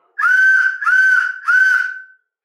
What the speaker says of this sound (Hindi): इसमें हमें निकली है ये सीटी